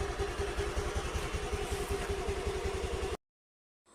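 A scooter engine idles close by with an even, rapid putter for about three seconds, then cuts to silence.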